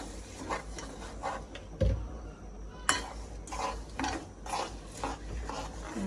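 Spoon scraping and stirring sugar syrup in a pot, repeated strokes with occasional clinks, fairly close and soft.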